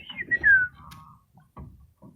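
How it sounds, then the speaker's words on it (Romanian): Domestic pigeons in a loft call at close range: a short whistling, falling note, then softer coos and low shuffling sounds in short bursts, with no talk. "Am ajuns aici la porumbei."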